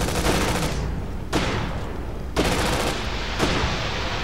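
Gunfire in the video game Syphon Filter: Logan's Shadow, a steady, dense roar of rapid shots with a few sharper bursts standing out, loud and continuous throughout.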